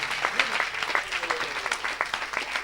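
A church congregation claps steadily and together in praise of the Lord, a dense, sustained burst of applause that fills the room at moderate loudness with no talk over it.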